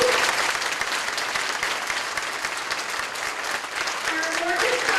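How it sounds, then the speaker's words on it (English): An audience gives a big round of applause for the ROTC at a Salute to Service event, a dense, steady clapping from a large crowd that holds at full strength throughout. "Please help me in giving a big round of applause to our ROTC"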